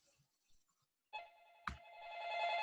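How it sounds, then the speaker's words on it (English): A cell phone rings during a home studio session: a loud, sustained electronic ringtone with bright harmonic tones starts abruptly after a quiet stretch, a brief sharp knock cuts in, and the ringing swells steadily louder toward the end. "Cell phone."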